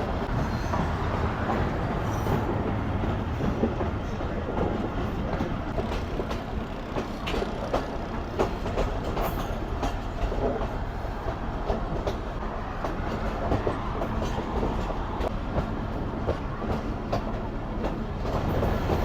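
A train on the Larkana to Kotri railway route rolls along with a continuous loud rumble and steady rhythmic clicking of wheels over rail joints, heard from on board and sustained throughout without talk.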